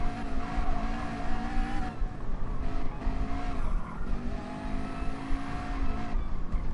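A race car engine under throttle during qualifying drones loudly and continuously, its pitch rising and dipping with throttle and gear changes, with no talk.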